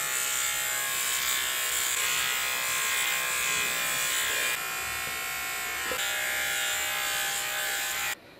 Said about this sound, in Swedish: då ska vi börja raka benen också